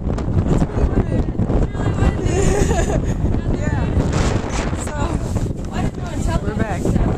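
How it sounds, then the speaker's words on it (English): Strong wind buffets the microphone outdoors in Torres del Paine, Patagonia, a continuous loud rushing roar with gusty swells throughout, while people talk briefly over it. "But yeah, it's pretty windy."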